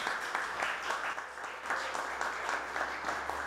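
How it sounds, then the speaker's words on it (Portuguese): Audience at a lecture on heritage restoration giving a round of applause, a steady wash of many hands clapping at moderate volume with no pauses. "Uma salva de palmas para todos"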